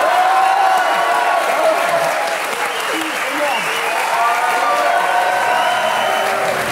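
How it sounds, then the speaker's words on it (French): A studio audience applauds at a French television talk show, dense sustained clapping filling the whole stretch, close and loud, with a presenter's voice faintly heard beneath it. "Je vous demande maintenant d'applaudir le duo le plus célèbre du cinéma"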